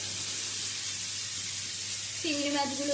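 Shrimp frying and being stirred in a pan with carrot for mixed rice: a steady, close sizzle hiss that runs throughout, with a voice cutting in near the end.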